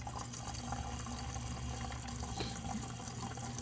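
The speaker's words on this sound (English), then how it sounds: "until you see the water come out of here" Coolant water flows out of a BMW cooling system while it is being bled during a water pump test, a faint, steady, continuous trickling gush with no voices.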